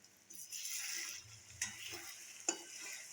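Stuffed tomatoes frying in oil are stirred in a pan, producing a soft sizzle with a couple of sharper scrapes and taps from the spoon. The sound is quiet, close and brief, with no voices.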